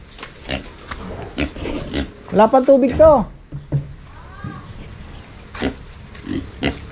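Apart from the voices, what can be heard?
pig grunting on farm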